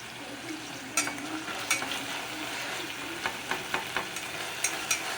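Onions and green chilli paste fry in a pan with a steady soft sizzle, punctuated by regular scraping taps of a spoon stirring, close and moderately quiet, with no talking.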